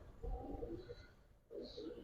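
Soft, low cooing from Giribaz racing pigeons in a collection, a couple of faint murmuring coos separated by a short pause.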